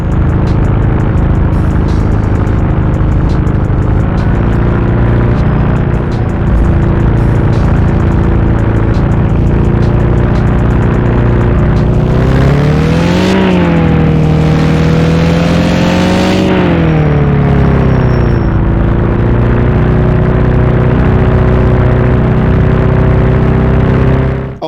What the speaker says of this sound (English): the engine sound of the car is not that terrible